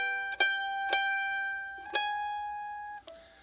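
Four plucked mandolin notes of a jig ring out one after another, each bright attack decaying slowly, played alone at a moderate, uneven pace.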